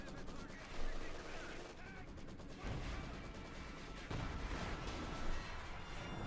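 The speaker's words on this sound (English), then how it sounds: "Shot bouncing off the Sturmpanzer's heavy frontal armor" Heavy tank shell glancing off the thick frontal armor of a German Sturmpanzer in Company of Heroes 2, a series of loud gunfire cracks and impacts amid ongoing battle noise and rumbling.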